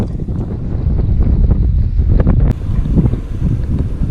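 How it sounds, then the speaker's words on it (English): Strong coastal wind on Lanzarote in the Canary Islands roars steadily against the microphone, a dense low rumble with gusty buffeting throughout, close and loud, no voices. "super windy out here today"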